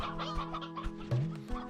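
Elder hens and roosters in Slime Rancher 2 cluck and chatter softly in a flock, a quiet cluster of short overlapping calls.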